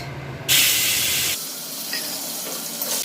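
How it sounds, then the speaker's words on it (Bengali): A sudden burst of loud sizzling as prawns hit hot oil, easing into a steady frying hiss. "আমি এতে ছেড়ে দিচ্ছি চিংড়ি মাছ"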